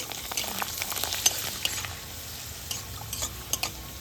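Papad frying in hot oil for a final batch of handmade nal papad, a steady bubbling sizzle with brief brighter crackles and scrapes of stirring, fairly close and alone with no talk.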